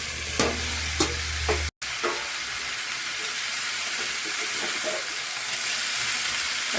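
Spinach being stir-fried with cauliflower and turnip in an overfull wok: a continuous hissing sizzle with a few knocks and clatters of the spoon against the pan near the start.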